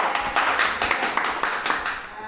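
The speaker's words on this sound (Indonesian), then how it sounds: "Beri tepuk tangan untuk Bapak Martin." A group of people applauds at a family capacity-building meeting, with quick dense clapping throughout and voices mixed in.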